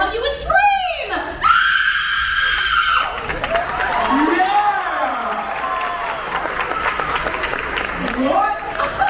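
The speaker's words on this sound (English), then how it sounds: "Let's all hear how you would scream." At a Universal Studios Hollywood special effects show, a woman lets out a long, piercing scream, then a crowd laughs, cheers and applauds, with more shrieks and chatter following.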